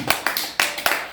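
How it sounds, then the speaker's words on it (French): Church congregation clapping in praise, a few loud, uneven bursts of hand claps in quick succession, close and fairly loud. "Applaudissons au Seigneur Jésus."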